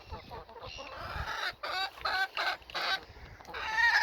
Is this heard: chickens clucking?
yes